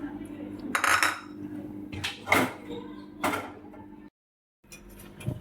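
Crushed peanuts, ground in a chopper, being moved onto a plate: a few close metallic scrapes and clinks of a spoon against the dish in separate bursts, then a short silence and a little more clatter.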